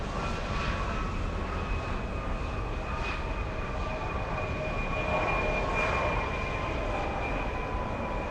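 A SkyWest Embraer E175 regional jet arrives at LAX on its flight in from Fresno, California, with a steady, broad jet roar and a thin whine held throughout and no voices.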